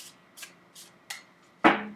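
Brief riffles and soft slaps of tarot cards being shuffled, a few separate bursts ending in a louder snap, close and otherwise quiet.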